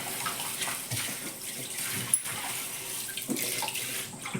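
Running water splashes and trickles while something is rinsed by hand in a home kitchen, an irregular close gurgling with small clinks.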